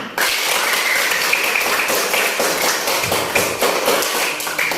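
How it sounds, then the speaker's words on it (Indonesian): Schoolchildren in a classroom clap for their classmates, a lively dense burst of many small hands clapping steadily and close, with faint voices underneath. "Pintar-pintar, berikan tepuk tangan."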